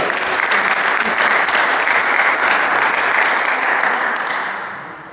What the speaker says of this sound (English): Give a big round of applause, everybody.